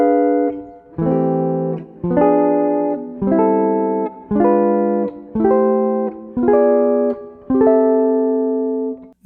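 Guitar block chords alternate diminished voicings that resolve into C6 inversions, eight or so sustained chords struck at a steady pace, clear and close with no voices.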